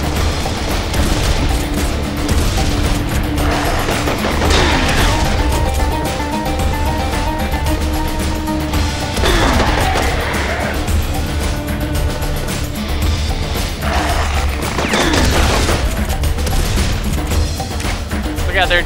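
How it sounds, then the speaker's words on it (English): Shotgun blasts and heavy gunfire in Serious Sam 3 ring out in loud repeated bursts over dense game music and effects, with someone talking at times. "Going in with a shotgun."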